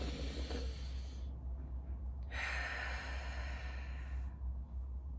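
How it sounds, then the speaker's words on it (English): A slow, deep inhale through the nose and mouth, filling and lifting the chest, breathy and close, followed by a softer exhale, over a low steady hum. "You breathe in, it looks like this."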